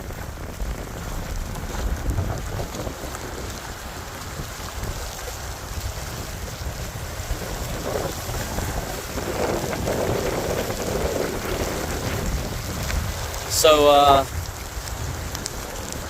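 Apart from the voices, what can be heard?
steady wind and rain of Tropical Storm Ophelia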